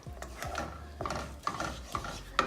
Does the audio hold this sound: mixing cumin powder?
yes